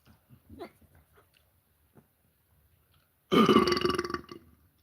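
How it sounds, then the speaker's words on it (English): After faint scattered noises, a man lets out one loud, rough burp lasting about a second and a half, close to the microphone and alone. "that's one loud burp, man."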